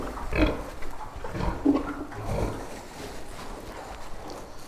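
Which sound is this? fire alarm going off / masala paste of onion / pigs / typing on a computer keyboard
pigs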